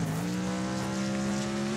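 Race car engine in the Wreckfest video game running a NASCAR Legends mod, a steady droning harmonic whine that slowly rises in pitch, loud and continuous with no talk.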